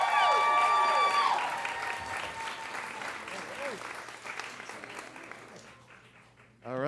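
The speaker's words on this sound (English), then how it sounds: "we gotta give a huge round of applause" Applause and cheering from the audience at a live comedy show at the Hollywood Improv, loud at first with whoops, then thinning out and tapering off toward the end, with voices over it.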